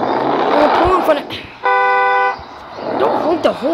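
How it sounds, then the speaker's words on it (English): A single steady car horn blast, about a second long, sounds between stretches of people talking. "Don't honk the horn at him."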